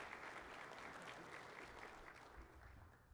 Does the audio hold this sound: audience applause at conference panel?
yes